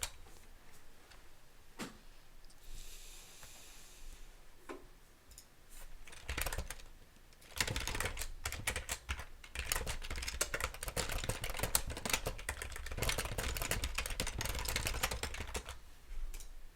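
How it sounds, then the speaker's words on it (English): Rapid, intense clacking of a computer keyboard, starting sparse with a few isolated clicks and then building into dense, continuous typing bursts that stay loud and close through the second half. "Such intense typing."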